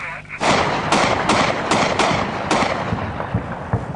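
Large artillery shells hitting targets in Tagab, Afghanistan, several heavy booming impacts in quick succession, loud and rolling, each followed by a long reverberant tail.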